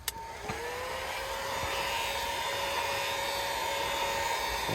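A heat gun blows steadily on the adhesive backing of a Nissan Altima footwell lighting strip, a continuous close whirring hiss with a faint whine, starting after a brief click and holding evenly for several seconds.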